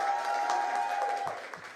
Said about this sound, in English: Ladies and gentlemen, give Rahama a big round of applause.